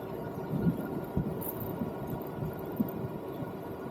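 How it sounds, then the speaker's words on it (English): An Engwe L20 2.0 e-bike motor stutters while riding, a low, faint, irregular thumping pulse under a steady hum and road noise, with no voices. "that's that stutter you hear with that motor"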